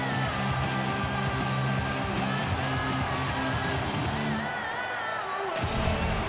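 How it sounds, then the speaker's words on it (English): A hockey arena crowd in the NHL 15 video game, Lightning against Blackhawks, cheers steadily as a broad, continuous roar with scattered whoops throughout. "Chicago's gotten the crowd into it early."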